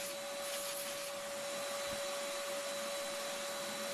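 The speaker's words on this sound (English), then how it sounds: "I've got my vacuum going to suck up as much air dust as possible" A shop vacuum runs steadily at close range to collect dust from belt sanding while a marking knife is made, giving a constant whining drone with a strong steady tone, and no one speaks.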